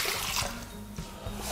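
Water poured into the mixing bowl of a Thermomix kitchen machine while making yeast dough, a steady close trickle and splash that runs without a break for the whole short stretch.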